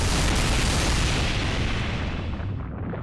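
A barrage of explosions in the video game Fate/Grand Order: a dense, continuous roar of booms filling the whole range, loud and close, fading slightly at the end, with no voices.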